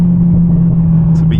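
Mercedes CLA45s AMG engine droning loudly from inside the cabin with a steady low hum and rumble, a voice talking over it throughout.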